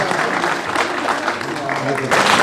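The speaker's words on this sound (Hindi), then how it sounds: "तालियां हो जाए" Steady applause from a seated audience at a felicitation ceremony for NEET students in Srinagar. The clapping is dense and continuous, with voices mixed in.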